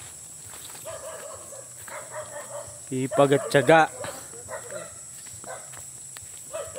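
A dog at a countryside farm gives a quick cluster of barks, fairly close but brief, amid insect chirping and a man's speech.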